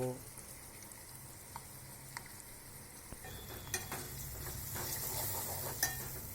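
Bell pepper curry cooks over low heat with a faint, steady sizzle and soft occasional clinks of a spoon against the pan.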